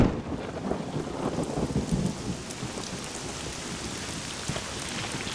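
Steady rain pours outdoors, with a low rumble of thunder rolling underneath near the start, then a continuous hiss of falling drops with no voices.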